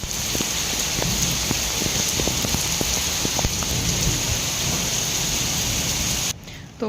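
Heavy rain pours steadily in a constant dense hiss, with scattered drips and taps underneath, then cuts off near the end.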